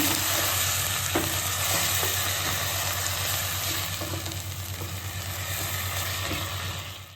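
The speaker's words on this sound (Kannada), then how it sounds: "1 ಕಪ್ ಮೊಸರು ಹಾಕ್ತಾ ಇದ್ದೀವಿ. ಇದಕ್ಕೆ ಚೆನ್ನಾಗಿ ಮಿಕ್ಸ್ ಕೊಡೋಣ." Curd being stirred into a veg biryani gravy in a pan, with a continuous soft sizzle and scraping stirring strokes and a steady background hum.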